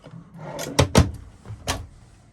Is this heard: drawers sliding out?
yes